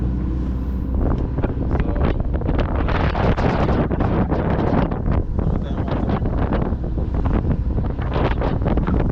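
Commercial fishing boat off Fort Lauderdale, its engine running under heavy wind buffeting the microphone, with a rough continuous rumble and gusty bursts throughout.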